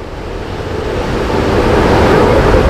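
Strong wind buffets the microphone at the very front of the ferry MV Caledonian Isles, with the sea rushing below in a loud, continuous roar that grows slightly stronger.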